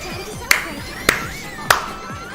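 Three sharp, loud clap sounds at maximum volume, evenly spaced about half a second apart, ring out over quiet background music, with no one talking.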